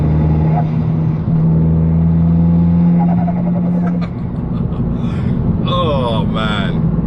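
A modified big-turbo Abarth 595 hatchback engine, 225 bhp, drones steadily as the car accelerates, the pitch climbing with wind noise, then gear-change pops and a higher whine near the end.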